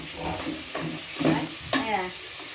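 Chopped frog and green banana being stir-fried in a pan, with soft sizzling and several scraping stir strokes from a utensil in a steady, close kitchen sound.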